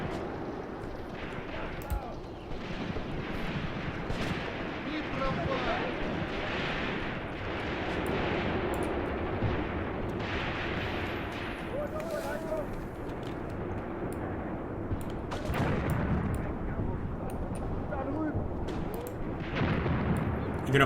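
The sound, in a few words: gunfire and artillery shots in the video game Graviteam Tactics Mius Front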